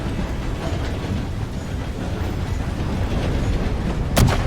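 A steam train in the Red Dead Redemption 2 video game rumbles along with a continuous rolling roar, rising slightly, then a sharp burst near the end; no voices.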